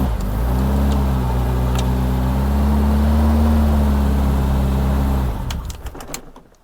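A barn-find Reliant Rialto's engine runs loud and close at a steady low idle, then abruptly dies as it stalls, leaving a few faint knocks afterward.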